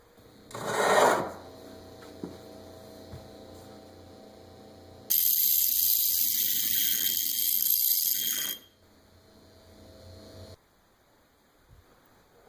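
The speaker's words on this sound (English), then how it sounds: "So I always just sharpen one and then the other." Metal file rasping a sharp edge onto a homemade arrowhead cut from a rifle cartridge case, a short stroke early, then a long loud sustained rasp of several seconds, close up with no talk.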